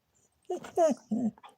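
A dog indoors gives three short, high-pitched yips and barks in quick succession, fairly close and faint, with a slight room echo and nothing else around them.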